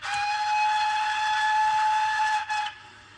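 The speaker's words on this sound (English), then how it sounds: "I'll give you a short routine of some of the whistles" A Graham Farish 5MT DCC sound model steam locomotive sounds one sustained, bright whistle for about two and a half seconds, loud and steady, then cuts off abruptly into near silence.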